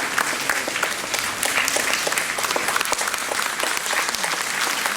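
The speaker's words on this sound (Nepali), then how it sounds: "यस सुन्दर पलमा सबैले तालीद्वारा हजुरहरूले पनि स्वागत जनाइदिनु होला।" Sustained audience applause welcomes guests at a Brahma Kumaris golden jubilee celebration in Darjeeling, a dense steady rain of many hands clapping, close and loud, with no talk.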